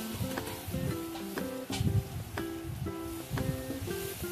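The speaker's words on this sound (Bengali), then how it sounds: "মশারির ডালটা 1 থেকে 2 মিনিট অবধি ভাজবো" Washed masoor dal frying in a pan with cumin and turmeric for a Bengali fish-head muri ghanto, a soft steady sizzle broken by repeated scraping strokes of a spatula stirring.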